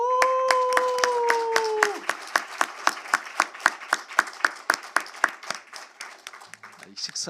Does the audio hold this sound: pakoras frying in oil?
no